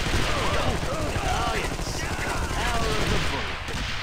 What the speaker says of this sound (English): those rockets are wreaking havoc on us